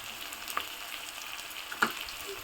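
Onions fry with a little salt in a pan, a soft steady sizzle with a couple of brief utensil clicks, quiet and close.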